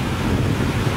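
Strong wind at a beach buffets and roars across the microphone, a continuous loud rush with no voices.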